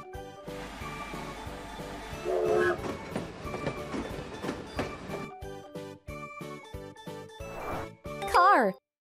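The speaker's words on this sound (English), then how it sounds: "Train." A train rumbles and clatters along amid a busy, layered mix of sound, ending with a rising, whistle-like squeal.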